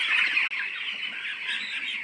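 Young chicks chirping close by, a continuous high-pitched peeping chorus with a brief break partway through, steady and fairly loud with no talk over it.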